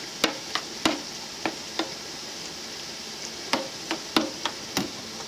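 Yogurt and chopped onion being stirred together for a chicken biryani marinade, with a series of sharp, irregular clicks and taps of a utensil against the bowl over a soft, steady background.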